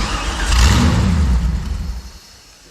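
An LS V8 swapped into a Porsche Cayman fires up for the first time, a loud, close burst of cranking and revving that runs for about two seconds and then drops away.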